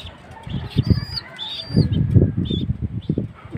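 Pigeons flap their wings in several quick bursts, with soft chirps and high squeaks overhead, close by and otherwise quiet.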